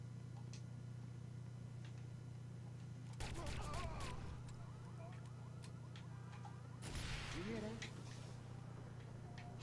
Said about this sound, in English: Did you hear that? That explosion?